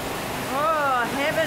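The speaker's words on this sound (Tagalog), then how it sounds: "Lagmistulang ilog ang rumaragasang baha sa kalsadang yan sa Tanuda." Rushing floodwater pours down a street during storms and hail in Australia, a steady broadband roar of churning water, loud and close, with voices and harmonic calls rising over it midway.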